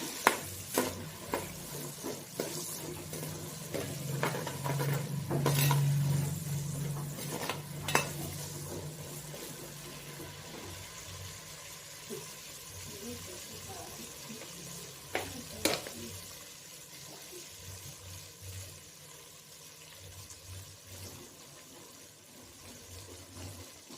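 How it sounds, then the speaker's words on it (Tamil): Shallots sautéing in a pan for a sardine fish kulambu, quiet sizzling under repeated spoon scrapes and clinks against the pan, with a low hum early on and occasional louder knocks. "சின்ன வெங்காயத்தை நல்லா வதக்கிங்க"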